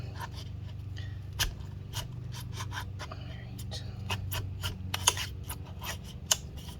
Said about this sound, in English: Work your way over and just continue cutting this adhesive.